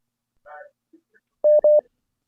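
Two clear, loud telephone dialing tones beep in quick succession, each steady and separated by a short gap, following a few faint murmured sounds.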